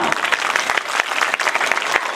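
An audience at a village fair performance claps loudly and continuously, a dense close burst of applause lasting a couple of seconds.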